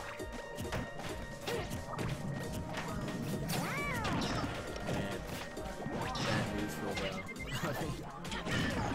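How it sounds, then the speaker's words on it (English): Super Smash Bros match with a character throwing PK Fire and forward smash attacks, a dense run of loud crashing, whacking hits and game effects over steady crowd and commentary talk. "Throwing some PK fires, forward smashes"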